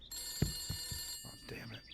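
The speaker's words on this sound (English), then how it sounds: "I hear you, phone." A telephone rings with a steady electronic tone, quiet and fairly close, under someone talking and some thumping movement.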